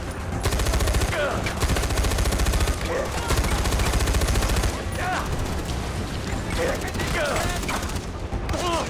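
Continuous gunfire from shooting enemies in the Far Cry 4 video game crackles in dense automatic bursts, loud and near, with brief pauses between volleys.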